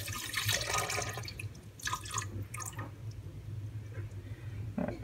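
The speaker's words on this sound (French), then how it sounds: "on va verser l'eau" Water poured into the bowl of a Monsieur Cuisine Connect food processor while making bread, a close, splashing trickle with dripping bursts that starts and stops over a few seconds.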